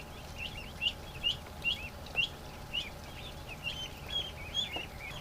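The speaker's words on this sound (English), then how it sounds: "A real busy bunch of ducks." A busy group of ducks and ducklings in a yard gives faint, repeated high peeps at a steady rhythm under a low background hum, some distance away.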